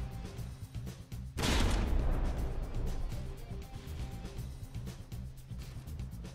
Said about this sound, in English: Got another volley coming in towards the front here. Those high explosive shells falling short.